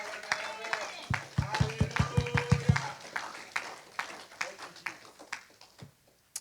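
A church congregation claps in a steady, even rhythm of about ten beats, then trails off into scattered, irregular claps and taps, with voices in the background.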